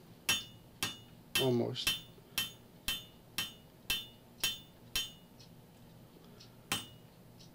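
Steel axe stock being drawn out by hammer on an anvil: a steady series of about a dozen sharp, ringing blows spaced roughly half a second apart, close and loud, with a brief spoken word between strikes.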